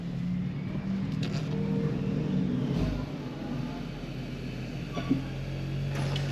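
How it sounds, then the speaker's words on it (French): An Audi A3 Sportback 40 TFSI e plug-in hybrid's petrol engine turns over and starts, settling into a low steady idle with a brief rev, heard close inside the cabin. "la voiture vient de démarrer le moteur thermique"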